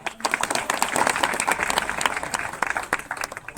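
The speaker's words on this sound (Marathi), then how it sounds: "त्यांच्यासाठी टाळ्या वाजवा." An audience of villagers applauding together, a dense burst of many hands clapping that stays loud throughout and fades slightly at the end.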